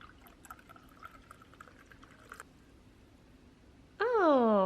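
A drink is poured into a glass on a kitchen counter, heard as a sudden loud, close stream of liquid with a rising filling pitch in the final moment, after quiet background noise and faint clatter.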